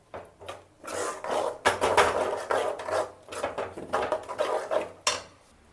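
Scraping and stirring tomato puree sautéing in a pan, with a metal spoon rasping and clinking repeatedly against the cookware, close up and fairly steady.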